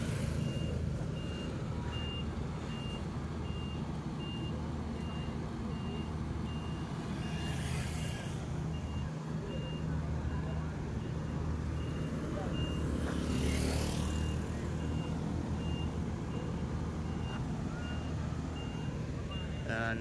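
Brewog Audio truck reversing as it turns around, its reversing beeper giving a steady, regularly pulsing tone throughout, under loud constant crowd and engine noise with occasional voices.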